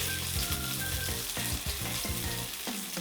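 Tofu sears in a frying pan, giving a steady, close sizzle and crackle of hot oil, with occasional light knocks and scrapes from turning the pieces.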